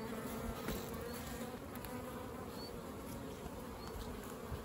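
Honeybees fill an opened hive with a dense, steady buzz close up, a constant droning swarm with no talk over it.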